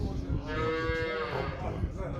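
A cow at a cattle market in Shymkent gives a single long, drawn-out moo at moderate distance over a busy background of market noise, with no talk on top.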